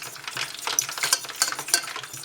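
Vegan gravy being whisked in a pot for a vegan poutine, a steady run of quick scraping clinks and swishes, close and fairly loud, with no talking.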